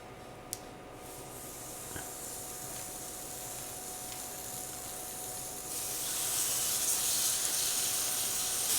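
Marinated chicken wings, one batch in pineapple sriracha and one in barbecue Worcestershire sauce, sizzle on a grill at 450 degrees with a steady broadband hiss that swells louder toward the end, with no talking.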